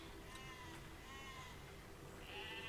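Sheep bleating inside the medieval siege-building game Besiege, repeated wavering bleats over a steady game background hum, with no talking.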